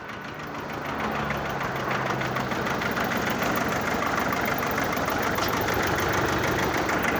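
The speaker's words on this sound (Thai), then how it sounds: "นี่ฟังเสียงดู อันนี้ก็โยกี่สูบนะสองสูบเหรอ" A used Japanese Kubota L240 two-cylinder, 24-horsepower single-shaft tractor engine runs at a steady, loud idle with an even chugging throb, building up over the first second and then holding constant with no talking.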